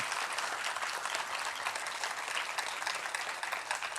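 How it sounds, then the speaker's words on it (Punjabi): Audience at a Sikh environment-day gathering clapping steadily, a dense even patter of many hands sustained throughout at moderate distance, with no talk over it. "ਤਾੜੀਆਂ ਬੜੀਆਂ ਘੱਟ ਵੱਜੀਆਂ।"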